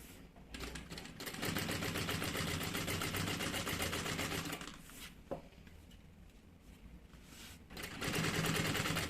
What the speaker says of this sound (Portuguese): E passa uma costura aqui de pesponto para assentar essa costura.